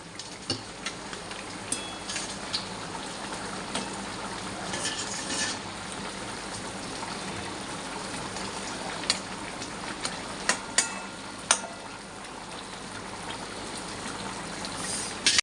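Shrimp frying in a pan for a cucumber curry, a steady close sizzle with scattered ticks and pops that run through the whole stretch without any talk.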